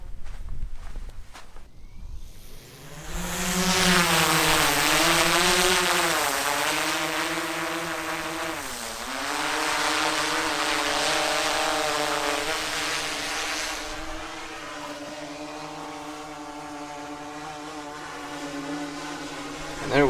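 A DJI Mavic Air 2 drone spins up and flies, its propellers giving a loud, steady whining buzz that rises and dips in pitch as it manoeuvres, then fades as it moves away.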